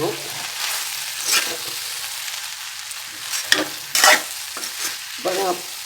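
Okra frying in a pan is stirred in a few separate scrapes and clatters, with a soft sizzle running faintly in the background between them.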